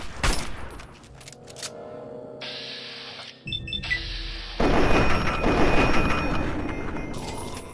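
Gunfire in the video game Fallout 3: bursts of shots and mechanical game effects, loud and dense, shifting into a sustained heavy barrage in the second half.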